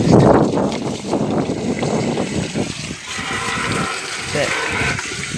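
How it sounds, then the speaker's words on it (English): Water sprays and gushes from a boat's exhaust during a flood on Auckland's North Shore. A loud, churning wash fills the scene, with wind buffeting the microphone, and the surge eases briefly midway before building again. "As you can see, spraying up this exhaust."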